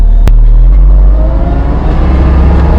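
A forestry mulcher engine running hard at high RPM, a loud close deep rumble and whir that holds steady across the clip after a sharp knock at the start.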